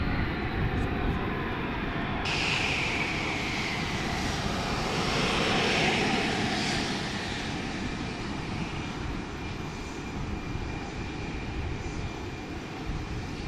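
Light combat helicopter flying a display at an air show, a loud, steady roar of engine and rotor noise that persists throughout, heard from the ground at a distance.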